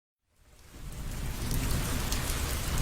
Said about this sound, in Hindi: जंगल में 2 दिनों से लगातार भारी बारिश हो रही थी।